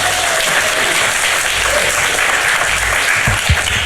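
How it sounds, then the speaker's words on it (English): Audience applause and cheering at a Skepticon 2024 conference talk fill the hall as a speaker is introduced, a dense, steady roar of many hands clapping that holds loudly throughout, with no voices on top. "Please make some noise for Sue"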